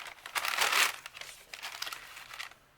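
Notebook paper is crumpled by hand up close, crisp crinkling bursts that swell in the first second, ease off, then return in smaller rustling handfuls.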